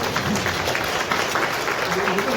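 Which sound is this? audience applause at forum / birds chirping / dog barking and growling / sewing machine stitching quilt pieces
audience applause at forum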